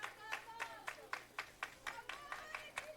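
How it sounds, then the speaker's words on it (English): Softball team bench cheering at a Rockmart versus LFO game, a run of quick rhythmic claps with faint voices, heard from a distance and fairly quiet. "The bench trying to cheer on."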